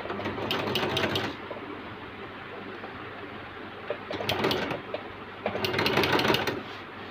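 An Usha Janome Allure DLX sewing machine runs in three separate bursts of rapid mechanical stitching, close and moderately loud, with quieter pauses between them and no speech.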